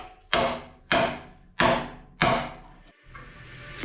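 Big hammer pounding on a frame part during a Duramax truck frame teardown: four heavy metallic blows about two-thirds of a second apart, each ringing and then fading, up close and loud, followed by a duller knock, with no talking.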